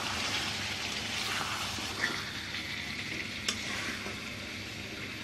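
Spices stirred into layer chicken and spiny gourd (kakrol) frying in a pan, a soft continuous sizzle with gentle stirring scrapes and a couple of faint clinks, fairly quiet and unbroken.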